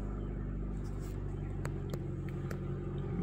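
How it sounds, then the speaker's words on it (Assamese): A car engine idles steadily to warm up after starting, a low continuous rumble close by with a few faint clicks and knocks over it. "গাড়ী ষ্টাৰ্ট কৰিলোঁ। মই ষ্টাৰ্ট কৰি গাড়ী অলপ দেৰি ৰাখি দিম"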